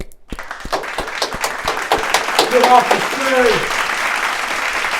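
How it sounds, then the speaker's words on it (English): A crowd at an event gives a round of applause, with claps starting sharply and swelling into a steady, fairly close roar. People shout and talk over the clapping. "Round of applause. Round of applause."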